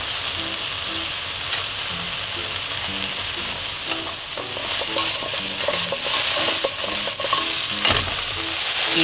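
Eggplant and okra stir-fry in a hot pan, a steady bright sizzle punctuated by frequent clinks and scrapes of a utensil tossing the vegetables, with no voices.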